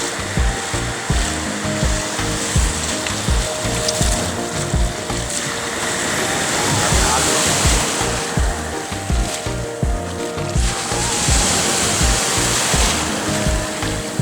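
Loud, continuous rushing of sea waves close by, with a steady low rumble and washes of surf that swell and recede, no voices.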